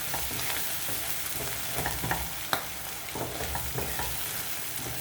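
Tuna fry with coriander leaves being stirred in a pan, a steady sizzle under repeated scraping strokes of a spoon, close and fairly loud, with no talking.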